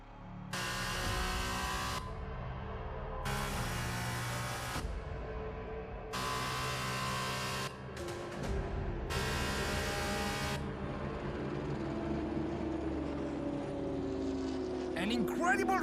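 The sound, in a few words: Formula race cars racing in video game F1 2021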